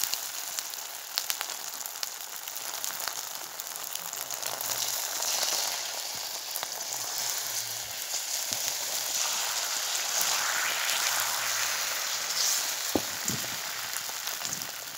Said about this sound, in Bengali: দেখো আমি ডিম ভাজি করতে আসি।